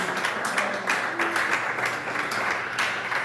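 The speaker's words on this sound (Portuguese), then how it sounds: "Exalta a Deus com as palmas" Church congregation clapping hands in praise during a service, a steady broadband patter of many hands continuing for a few seconds without talk.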